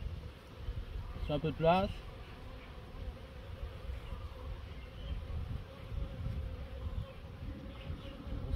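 Worker honeybees hum inside an opened hive during end-of-season beekeeping, a continuous close buzz with a short burst of French speech early on before the steady droning carries on alone.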